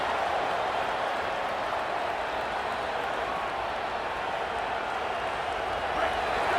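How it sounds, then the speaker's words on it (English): Stadium crowd noise from a college football video game, a dense continuous roar and rumble of fans holding at a loud, even level throughout. "This crowd trying to make life miserable for this offense."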